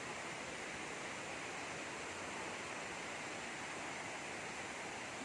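Steady, dense roar of falling water, a waterfall rushing continuously with no other sounds over it.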